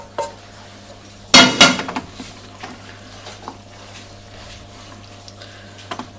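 Meat being gently stirred into a cooking dish, with one loud clatter of a utensil against the dish, then several small scattered taps and clinks spread out over a quiet kitchen background.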